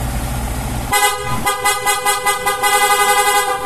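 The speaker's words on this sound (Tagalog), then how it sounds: "PIA horn with rapid, no?" A PIA aftermarket horn with a rapid setting on a Yamaha MT-15 motorcycle sounds up close and loud, opening with one long blast and then a fast run of repeated, evenly pulsing honks.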